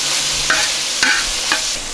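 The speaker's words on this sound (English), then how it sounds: "I'm adding the peppers. Just going to cook for another minute or two." Peppers sizzle steadily in a pan at a campsite, with three light scraping stirs at even intervals over the constant frying hiss, close by and with no talk.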